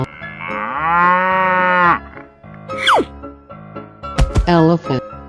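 A cartoon cow gives a long, loud, harmonic moo lasting about two seconds, then a sharp whistling swoop and a second, shorter moo-like call in an animated animal sequence.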